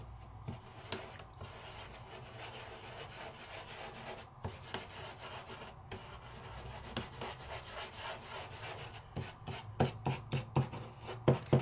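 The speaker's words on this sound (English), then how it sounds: "let's give a little bit of a rub and kind of move it around" A die-cut paper piece rubbed into place by hand gives close, soft, continuous friction with light scratchy strokes, building into a quicker run of distinct rubbing pulses near the end, heard alone with no voices.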